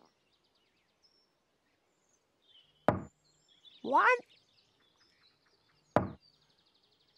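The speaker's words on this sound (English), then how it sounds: "Dipsy knocked on the door." Two sharp, loud knocks on a door land a few seconds apart in a quiet room, with a short voiced call and a counted word between them.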